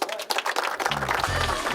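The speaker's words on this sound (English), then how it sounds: "Clap it up for yourselves." Audience clapping at a workshop event, a short, scattered burst of hands that grows denser toward the end, with voices mixed in underneath.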